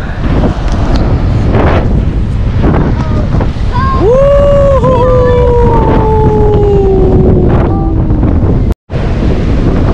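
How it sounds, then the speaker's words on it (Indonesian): Strong wind buffets the microphone on a sandy beach, a loud continuous roar with surf mixed in, a rising and falling tonal whine in the middle and a brief dropout near the end. "Luar biasa anginnya."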